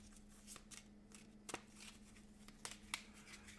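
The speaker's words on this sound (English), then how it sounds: "Let's just shuffle these cards up real quick." Playing cards are shuffled by hand for a tabletop baseball card game: soft riffling and papery flicks with a few sharper snaps, faint and close in a quiet room, with a low steady hum underneath.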